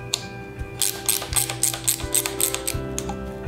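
Mechanical clicking and ratcheting as a wheelchair armrest mechanism is turned with a wrench, a steady run of small ticks and clacks close by with no talk.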